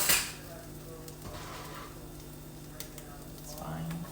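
Peppers sizzle softly in a hot pan while someone talks over the cooking, with light clatters of utensils and a low steady frying hiss throughout.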